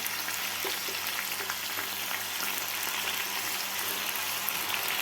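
Garlic frying in a pan as the base for South Indian sambar, giving a steady, moderate sizzle with a low hum underneath and no talking.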